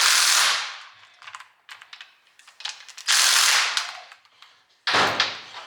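A hand ratchet tightens bolts on a Mazda Miata rear differential, giving loud, close bursts of rapid clicking with short pauses between strokes, with no talking.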